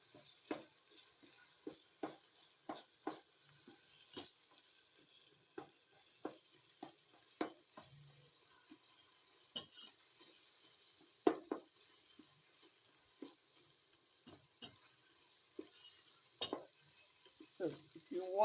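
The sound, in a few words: spoon breaking up cooked egusi in a pot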